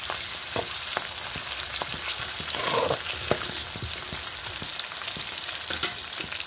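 Ingredients for an Andhra-style roti chutney fry gently in a pan on low flame, a quiet steady sizzle with scattered soft stirring taps and scrapes, no voices.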